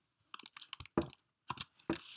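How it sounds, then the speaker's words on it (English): Someone types on a computer keyboard with a short, irregular burst of close, crisp key clicks separated by brief pauses in a quiet room. "and I type in Form Titan"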